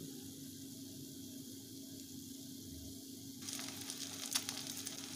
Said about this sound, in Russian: И на разогретую сковородку выкладываем наши квадратики.